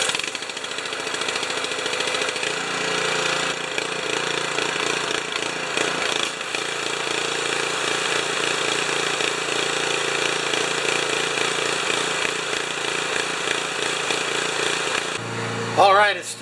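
A Honda HS720 commercial snow thrower engine running rough under no load, its idle droning with uneven surging and knocking, a voice talking over it now and then.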